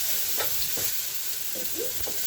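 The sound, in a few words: stirring food sizzling in a pan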